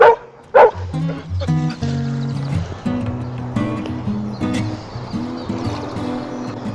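A dog at an urban fishing spot barks at carp in the water: a burst of sharp, excited yips followed by a steady run of high whining and whimpering, close and loud throughout.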